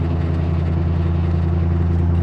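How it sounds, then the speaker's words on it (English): Dense, steady low drone inside a C5 Corvette with a loud open exhaust at low RPM, interior plastic panels buzzing and rattling under the exhaust boom, continuous and close with no voices. "every piece of plastic in the interior rattles"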